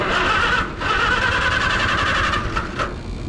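An Allis Chalmers WD45 tractor engine cranking over without starting, a loud continuous churning drone up close with brief dips in pitch and no voices.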